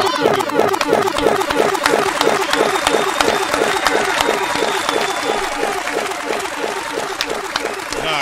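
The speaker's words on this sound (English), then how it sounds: "keep them applause going right there" A live crowd claps and cheers steadily at a freestyle rap event, with fast dense clapping filling the whole stretch at a loud, even level.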